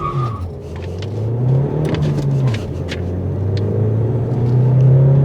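A Renault Megane 4 with a 1.3 TCe 140 hp turbo petrol engine accelerating hard, its steady engine tone climbing and dipping through a gear change and rising again, loud and close under a constant road rumble, with no talking.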